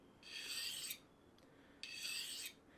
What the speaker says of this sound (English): You can hear it because it's grinding off that burr.